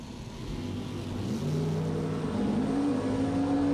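Bracket drag racing cars launching at a drag strip, one pulling a wheelie; a loud, sustained engine roar builds and rises in pitch as the cars accelerate away, with no talk.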